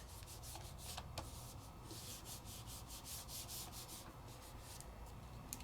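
A fingertip rubbing oil pastel into inked vellum gives a soft, continuous papery rubbing with brief strokes repeating, close and quiet, with no voices.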